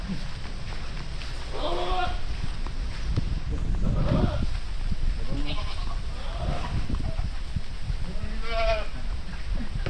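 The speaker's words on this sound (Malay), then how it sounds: "dekat sini abang ada lagi kambing tau" Several goats bleat at intervals, fairly close, with steady background noise and some farmyard activity between calls.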